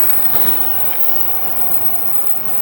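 A short KRL commuter electric train rolls past at close range, a steady roar with rail rumble and faint wheel clatter throughout, no speech.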